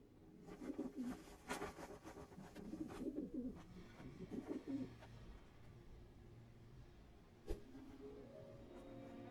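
A black bird in a Hindi-dubbed Hollywood action comedy film gives several soft, cooing calls in a row, moderately close, followed by quieter ambience and a single sharp knock.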